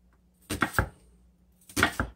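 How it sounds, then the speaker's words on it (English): A knife chops a red onion finely on a cutting board, giving two short clusters of crisp, close cuts separated by a brief pause, with no talking. "And I'll chop up the rest of the onion finely."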